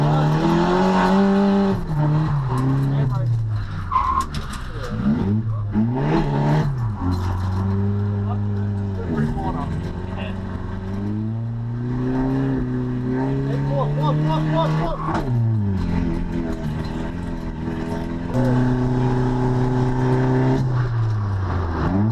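Race car driven on a wet track day circuit, its engine revving up and down through gear changes across the whole stretch, loud and close as in an onboard view, with a voice talking over it.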